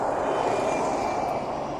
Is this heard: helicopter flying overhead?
yes